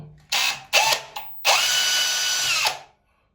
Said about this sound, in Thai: เจาะอีกรูหนึ่ง นะครับ